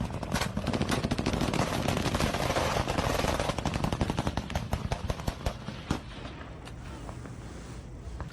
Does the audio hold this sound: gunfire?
yes